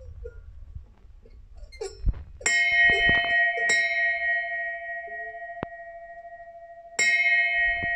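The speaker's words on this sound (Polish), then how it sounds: "największy dzwon Piotr. Więc jest on bardziej z tych dzwonów, które używane są na statkach." Piotr, the largest bell in a home collection and a ship's bell, struck several times: bright ringing strikes with long sustained tones, close and loud, with a quieter stroke in between, and no talking.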